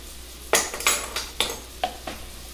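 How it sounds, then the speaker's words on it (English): Brussels sprouts in a pan, stirred with a utensil that knocks and scrapes the pan in about six separate strokes over a faint sizzle, close and fairly quiet, with no talking. "Now I just want to cook that down a little bit, coat them all up."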